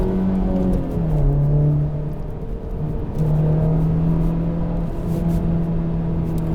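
A Honda Civic Type R's engine pulls hard through the gears from inside the cabin, a loud, steady drone that rises in pitch, dips briefly at a shift, then climbs again.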